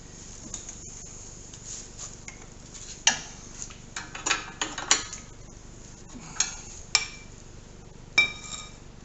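A metal connecting rod cap goes onto a Ford 302 V8 engine, producing a scattered series of small metallic clinks and taps at irregular intervals, close and fairly quiet over a near-silent room.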